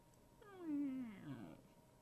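A single imitation cat meow from a hexagon-world video game, rising then sliding down in pitch over about a second, moderately loud against a quiet background.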